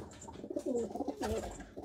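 A high flyer pigeon hen cooing close by, soft throaty warbling coos rising and falling in two short phrases over faint background noise.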